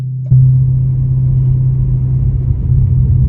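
A 2005 Corvette convertible fitted with an SLP exhaust rumbles close by, its deep engine note jumping in after a brief pause and then holding a steady, loud idle-level drone with slight rises.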